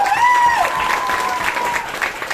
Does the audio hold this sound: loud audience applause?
yes